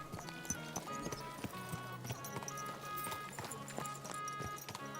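Rhythmic hoof clip-clops of a horse in the video game Kingdom Come: Deliverance 2, steady and fairly close, over a busy layer of game music and ambient sound.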